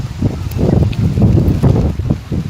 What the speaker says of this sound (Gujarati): તમે જો પવન સાથે વરસાદ.